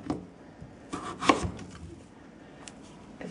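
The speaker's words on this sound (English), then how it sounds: "I'm going to cut this part into half-inch moons" A knife cutting butternut squash into half-inch moons on a cutting board, a few dull close thuds and scraping strokes with a firmer chop in the middle, spaced irregularly and unaccompanied by voices.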